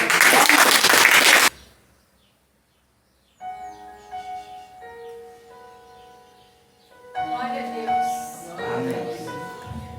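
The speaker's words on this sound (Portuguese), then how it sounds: "Deus merece aplausos." Brief burst of applause from a church congregation at a communion service, loud and dense for about a second and a half, then silence before soft organ-like tones and voices follow.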